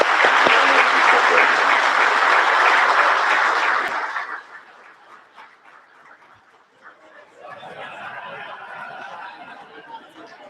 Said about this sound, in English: And we can thank him once again with a round of applause.